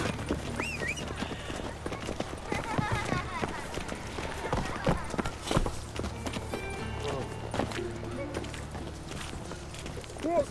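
Roach, Geralt's horse in The Witcher 3, galloping with a rapid rhythmic clip-clop of hooves and a brief whinny, set under game music and a spoken voice.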